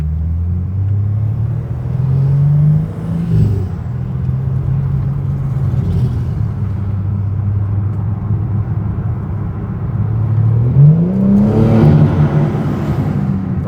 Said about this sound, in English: Let's hear some downshifts.